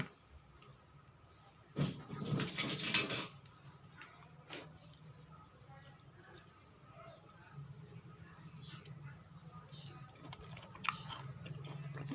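Mouth sounds of chewing while tasting mushroom larb: a loud crunchy burst early on, then soft, close, intermittent wet chewing and smacking with faint clicks.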